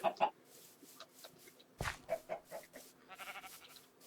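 Minecraft chickens cluck in a series of short, soft bursts spread across the moment, with a sharp thump in the middle and a rustling flurry near the end.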